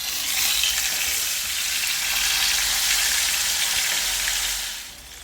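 Fish coated in a masala of chilli, turmeric and ginger-garlic frying in hot oil, a loud, dense, continuous sizzle close by that tapers off at the end, no voices.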